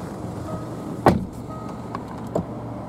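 A car door swings shut on a Jaguar XF 2.0 D Portfolio, heard from inside as one solid, muffled thud, followed by a fainter second knock about a second later over a low cabin hum.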